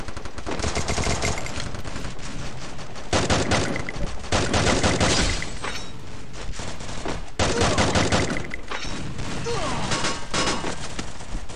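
Video game gunfire rattles in dense automatic bursts and volleys, loud and continuous across the clip with short lulls between strings of shots.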